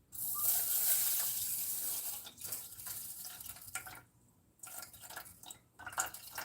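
Water poured for cooking chicken, about 170 grams measured out: a steady hissing pour for the first two seconds, then scattered drips and splashes with brief pauses.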